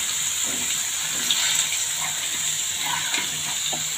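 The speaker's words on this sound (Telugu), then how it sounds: "చిల్లీలు గరిటెలో నుంచి తీసి దాన్ని ఇలా స్ప్రెడ్ చేసి వేస్తున్నానండి." Chillies spread from a ladle into hot frying oil for a spicy karam mixture, giving a steady, close, hissing sizzle with small bubbling pops throughout.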